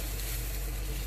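Uttapam batter ladled onto a hot non-stick griddle without oil, a brief, faint, steady hiss of sizzling with no speech.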